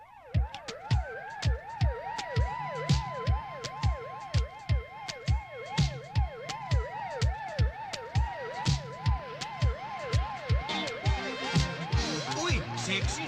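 An ambulance siren wails steadily in a repeating up-and-down sweep, loud and close, with a regular thumping beat underneath throughout.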